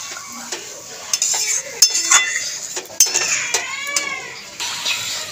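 A spoon scrapes and clinks against a pan while potol malai curry with mustard is stirred, in irregular close strokes with no one talking.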